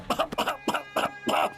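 Several harsh coughs in quick succession from a man with a bad cold, loud and close, in a rhythmic burst of about four or five hacks with short gaps between them.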